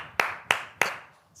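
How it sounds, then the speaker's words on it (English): One person claps three times at an even pace, sharp and close, each clap ringing briefly before the next. "I was the only one that clapped"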